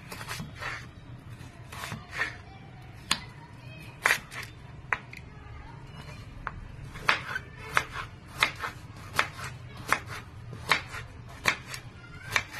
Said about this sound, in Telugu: ఈ విధంగా సన్నగా కట్ చేసుకోవాలి.